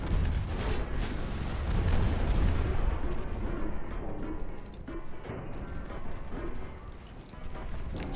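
Naval battle in a strategy video game, with dense rolling gunfire and heavy explosion booms that stay loud throughout and thin out slightly toward the end.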